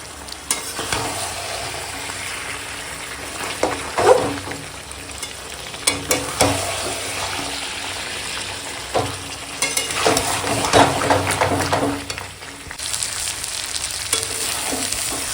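Onion, tomato and green chilli fry with chicken in oil as a spatula stirs, making steady sizzling and scraping in repeated close bursts, with no talking.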